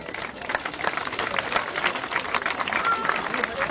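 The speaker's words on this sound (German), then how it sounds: "Also, Applaus nochmal für die Damen und Herren." A crowd applauds at an outdoor open-water swimming event in Schwerin, with dense, sustained clapping that carries through the whole stretch, mixed with faint voices in the background.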